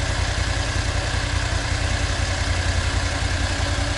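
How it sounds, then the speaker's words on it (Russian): A Borus Extreme all-terrain vehicle sits idling with its forced cooling running to blow out hot engine air, a steady, unbroken mechanical drone and whoosh close by. "Вот дает мотору остыть, включил принудительное охлаждение для выдува горячего воздуха."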